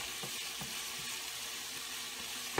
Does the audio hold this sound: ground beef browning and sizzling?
yes